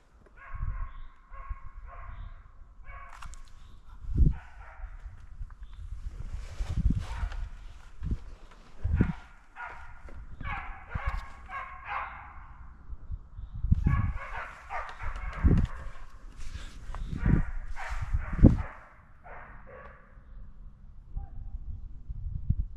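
Hunting dogs bark and yelp intermittently at a wild boar drive in woodland, some barks near and sharp, others farther off, with scattered rustling and thuds between them.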